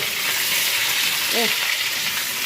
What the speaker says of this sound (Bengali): আলুগুলো ভেজে নেবো একটু সরষের তেল দিয়ে করবো